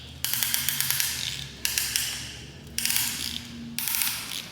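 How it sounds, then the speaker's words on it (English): A ratchet tightens a piston ring compressor around the rings during a Cummins 6BT diesel engine overhaul, giving four short bursts of rapid clicking with brief pauses between, close and fairly loud, with no talking. "And then we install our super fancy ring compressor."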